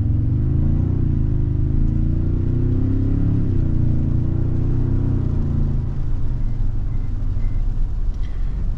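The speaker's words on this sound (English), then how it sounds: "if you can hear that rumble, I don't know if the camera's picking it up, but it's got that really cool grumbly kind of sound" A 2023 Toyota Tundra Capstone 4x4 pickup gives a deep, steady engine rumble while driving, its low grumbling tone holding close and loud before easing slightly toward the end.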